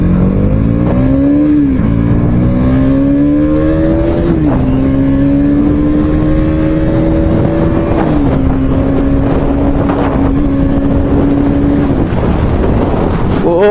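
A loud Bajaj Pulsar NS200 2024 motorcycle engine close by, revving up and easing off repeatedly in a rising and falling drone, with wind buffeting the microphone.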